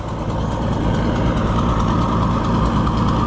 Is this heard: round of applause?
no